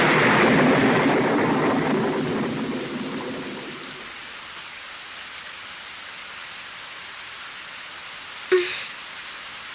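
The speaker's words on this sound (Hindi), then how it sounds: "काफी तेज बारिश हो रही है।" Heavy rain in an animated scene pours loudly at first, then fades to a steady softer hiss, with a brief sharp crack near the end.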